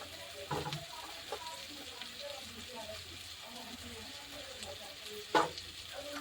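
Cauliflower florets sizzle and fry in a pan for a katla fish curry with potatoes. There is a soft, continuous crackle with a few louder stirring clatters, and a voice speaks faintly over it.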